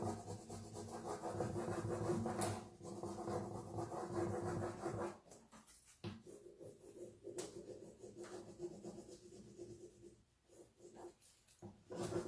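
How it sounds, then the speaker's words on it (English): A decoupage transfer being rubbed onto a flat surface, giving a steady, close scratchy rubbing in continuous strokes with brief pauses, quiet and alone. "I'm just going to start rubbing it on there again"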